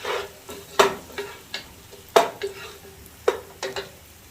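A soft sizzle of rice and onions frying in oil runs underneath, broken by several sharp scrapes and clinks of a utensil stirring in a pan.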